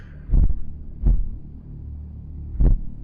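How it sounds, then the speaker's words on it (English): A retro NES-style heartbeat sound effect in the video game Kingdom Hearts 3 gives three deep, muffled thumps, the last after a longer pause, over a low steady background rumble. "The faint sound of a familiar of an NES heartbeat."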